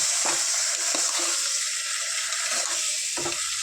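Chicken frying in a pan, a constant close hiss of hot oil broken by several scraping strokes of a spatula.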